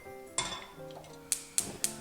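A saucepan is set on a stove to heat while cooking Japanese nikujaga, giving a few faint metallic clinks and knocks spaced through a quiet kitchen.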